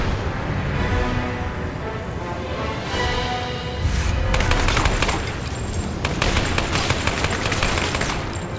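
Scattershot weapon fire in a Lara Croft and the Temple of Osiris game battle, a dense, continuous crackle of rapid shots that grows sharper and more clattering midway, with no one talking over it.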